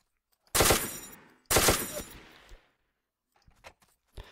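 Two loud bursts of rapid gunfire in the video game Ace of Spades, each about a second long, followed by a shorter burst and a few scattered faint shots.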